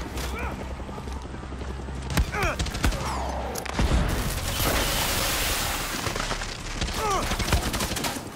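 Gunfire in the video game Far Cry 6: repeated sharp shots and bursts crackle through a busy battle soundscape, with players talking over the action.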